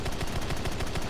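A 30mm aircraft cannon fires in War Thunder, a rapid, evenly spaced burst of heavy shots, steady and loud for about a second with no talking.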